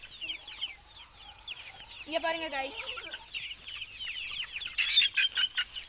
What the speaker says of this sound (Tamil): கீழே பாருங்கள் எவ்வளோ கோழி குஞ்சுன்னு.